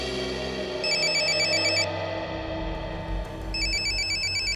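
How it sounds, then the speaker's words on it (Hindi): A mobile phone ringtone plays in two bursts of repeated electronic beeping, separated by a short pause. It is clear and fairly close, over a low background hum. "किसका फोन है?"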